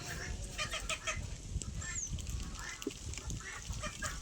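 Native country chickens on a farm cluck in scattered bursts over a noisy background, with a few sharper calls rising through; no one speaks.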